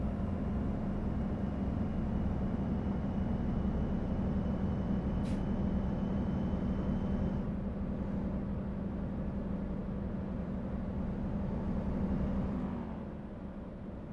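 A car in American Truck Simulator drives past with a steady, loud engine drone that holds for several seconds, then eases and fades near the end. No one speaks.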